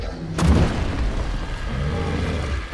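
In the video game Ark, a cannon fires a single deep boom that rolls into a sustained rumble, loud and close, with no talk over it.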